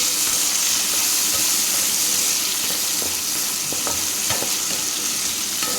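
Tomatoes and dried red chilies sauté in hot oil for a spinach kootu, giving a loud, steady sizzle with scattered clicks of stirring throughout and no talking.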